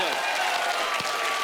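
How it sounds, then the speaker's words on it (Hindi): Studio audience applause at a televised comedy talk show, a dense steady wash of many hands clapping that fills the short moment with no one speaking over it. "इसके लिए भी तालियां बनती हैं।"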